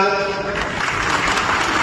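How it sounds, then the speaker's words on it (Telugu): Audience applause at a community event in Rachakonda where police inaugurated neighbourhood CCTV cameras: a steady wash of many hands clapping, fairly close, lasting under two seconds with a voice faintly underneath. "మీ చప్పట్ల మధ్యన"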